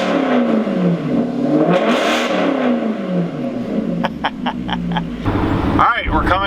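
A car in sport mode revs loudly, its engine note climbing and falling through several swells, then gives a sharper burst near the end, with a person talking over it.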